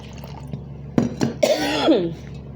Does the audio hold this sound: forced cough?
yes